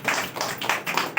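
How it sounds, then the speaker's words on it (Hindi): Several people clap together in honour of freedom fighters at a Republic Day gathering. The applause is short and close, coming in rhythmic bursts of hand claps with no talking. "आइए हम उनके लिए ताली मारेंगे"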